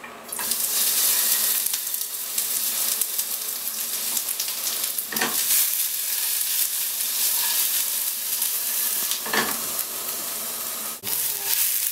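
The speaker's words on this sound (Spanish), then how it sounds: "Otra vez la sartana está muy caliente y voy a poner las cebollas" Onions hit a very hot pan of olive oil and fry with a loud, steady, crackling sizzle that lasts throughout, broken by a few brief stirring knocks, close and with no talk.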